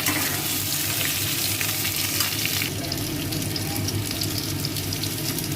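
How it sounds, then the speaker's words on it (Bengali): Drumstick (sajne) pieces frying in oil with potato and tomato while being stirred, a steady close sizzle with stirring scrapes that turns brighter and louder midway, no voices. "এবার আলু টমেটোটা দিয়ে আমি একসঙ্গে মিক্সড করছি"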